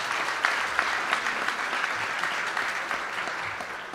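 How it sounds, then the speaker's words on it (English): Audience applause at a 2011 All-Star Game press conference, a steady wash of many hands clapping at moderate loudness for the whole stretch. "So let's give them a great round of applause."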